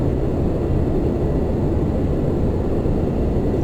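Three jet engines of a Lockheed L1011 Tristar spool up in the Prepar3D flight simulator, a steady, loud, broadband roar that holds even throughout with no voices over it.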